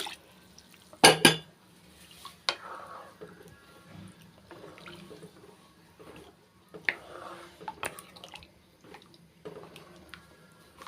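Clattering of a metal pressure cooker being rinsed, with a few sharp clanks and splashing water, then quieter trickling and handling sounds as water is added.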